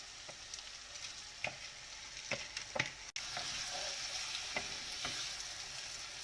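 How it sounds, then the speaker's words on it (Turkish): Rice toasts in a hot oiled pan for Uzbek pilaf, with a steady soft sizzle and repeated sharp taps and scrapes of the spoon stirring close by. "Pirinçlerimizi kırmadan yavaş yavaş 2-3 dakika kavuralım"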